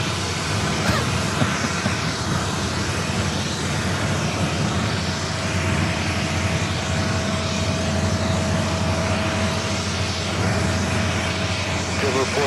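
A Singapore Airlines Boeing 777 jet at JFK gives off a continuous broadband engine rumble with a low hum, holding steady throughout, while voices talk intermittently over it.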